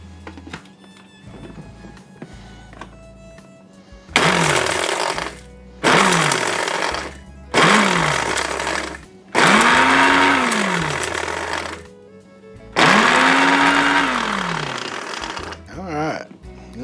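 A blender chops dehydrated onions in about five loud pulses, each motor burst whining up in pitch and then stopping, with short quiet pauses between them.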